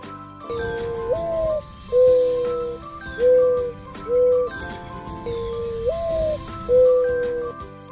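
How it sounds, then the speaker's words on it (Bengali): Soft hooting coos of a dove repeat in a slow, steady pattern over a gentle musical backing, each call rising then holding before a short pause. "ঘুঘু পাখি ডাকছে গাছে।"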